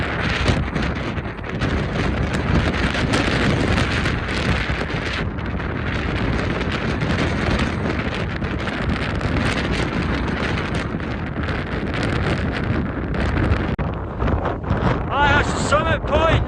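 Strong, relentless wind buffets the microphone on a misty hill summit in the Drumochter hills, roaring loud and close the whole time, with a brief voice at the end.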